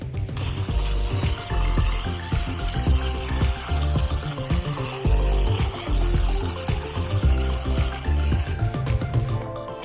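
Prickly pear cactus pads being rinsed under running water, a steady close splashing and trickling with knocks and clatter as the pads are handled in a basket.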